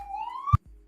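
A police or ambulance siren wails past outside, one rising tone sweeping upward before cutting off abruptly with a thump.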